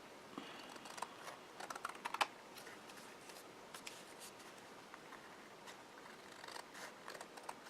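Scissors snip white cardstock during paper card-making, giving a few quiet, crisp cuts around the two-second mark over a faint room hush, with no voices.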